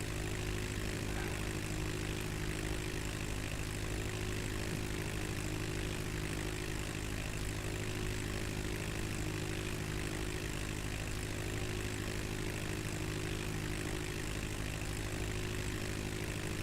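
Propeller light aircraft engine in flight between Gary/Chicago International and Michigan City Municipal airports, heard from inside the cabin as a continuous, steady drone with a strong low hum, unbroken and without speech.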